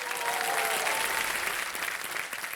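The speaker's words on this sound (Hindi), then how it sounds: "तालियां बज जाए इनके लिए।" Studio audience on the quiz show Kaun Banega Crorepati gives a short burst of dense, energetic applause, loud and steady for a couple of seconds.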